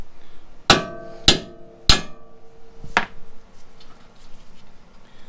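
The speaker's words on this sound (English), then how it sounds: "that's using a 4-pound sledge, though, a hand sledge." Wheel studs being driven out with a 4-pound hand sledge: four sharp metallic hammer strikes, loud and close, the first three evenly spaced and the last one lighter, over quiet background.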